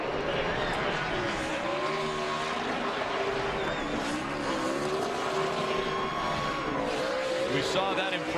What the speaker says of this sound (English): He'll get the checkered flag and continue his burnout